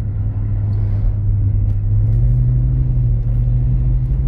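BMW E46 engine held under throttle while drifting on snow, a steady low droning rumble that rises slightly in pitch partway through, continuous and fairly close with no talk.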